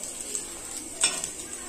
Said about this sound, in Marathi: या वड्यांना आपल्याला सारखं हलवत राहावं लागतं